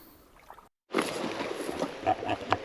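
A wild boar crashes and rustles through riverside bushes close by, a burst of scattered snapping and brushing thuds after a brief quiet moment.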